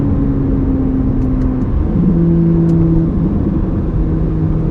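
A Corvette C8 Z06 engine, heard from inside the cabin during a drive, hums and rises in pitch as it revs, with steady road and wind noise underneath and no talking.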